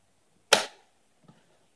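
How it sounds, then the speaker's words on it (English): An air rifle fired at point blank into a clay block gives one sharp, loud crack, followed by a faint small thud a moment later, with no talk. "we're gonna shoot a clay block with an air rifle at point blank range"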